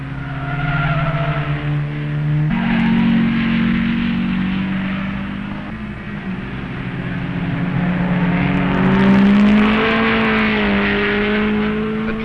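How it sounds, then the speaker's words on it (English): Sports race cars from 1959 run up the straightaway at the Road America SCCA National Races. Engines drone steadily and rise and fall in pitch as the cars pass at a moderate distance. "Note the cars going up the straightaway in the background."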